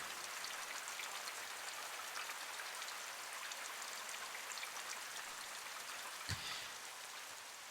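Steady rain falls in the Myst V game, a continuous hiss of drops pattering on surfaces, even and moderately soft, with one brief low thump near the end and no voices.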